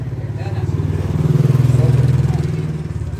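A motorbike engine drones steadily and close by in Marrakech, its low throb rising slightly in the middle before settling back.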